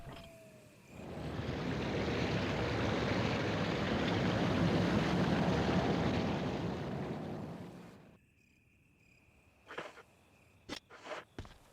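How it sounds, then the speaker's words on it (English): A steady broadband roar of rushing water from a waterfall in Resident Evil HD Remaster fills most of the span, then cuts off abruptly, leaving near silence broken by a few brief clicks and knocks. "Okay, so we had a waterfall that was going that we can now get past."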